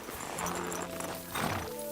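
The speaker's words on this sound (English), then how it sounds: "My God, that looks like a bloody expensive horse." A richly equipped horse in Kingdom Come Deliverance 2 gives a short whinny and snort close by, with faint game ambience behind it.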